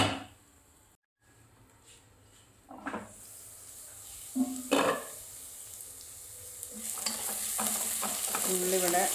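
Sliced onions with salt are stirred as they fry in a pan for chicken fry, quiet at first, then a spoon scrapes in a few bursts and the sizzle grows steadily louder toward the end.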